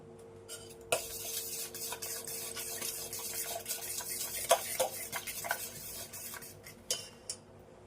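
A spoon stirs a batter of rice flour, oil and other ingredients in a bowl, giving soft scraping with sharp clinks against the bowl's side at irregular intervals, close and fairly quiet.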